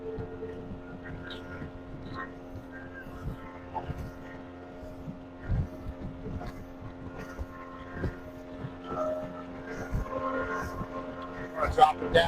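A center console motorboat under way at about 5,200 RPM, its steady engine drone running throughout with wind buffeting and water noise, and occasional louder gusts toward the end.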